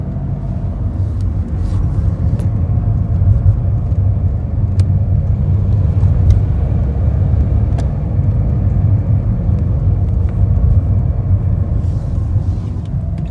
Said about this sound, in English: You'll hear a constant hum of the wheel just going. That is the wheel bearing.